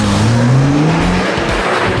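A car on a track driving very fast then braking hard, engine droning with falling pitch as tires squeal and skid, loud and continuous.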